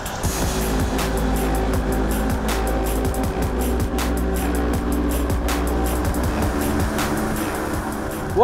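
A Volvo XC90 Inscription SUV drives along with its engine running, a steady loud drone of engine and road noise throughout with no voices.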